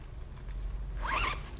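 Zipper on a knitting bag pulled closed, one quick rasping zip that is close and fairly quiet, heard alone with no speech.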